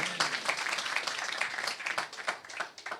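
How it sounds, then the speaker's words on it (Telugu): A church congregation at a Christmas service applauding, a dense, fairly distant patter of many hands clapping that holds steady through the moment. "చప్పట్లు కొట్టండి గట్టిగా"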